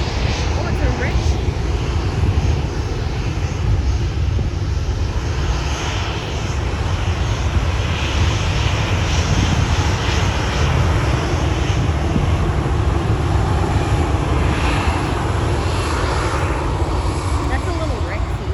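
Rex regional propeller airliner at Sydney airport, a loud, continuous engine roar close by that holds steady throughout, with no voices.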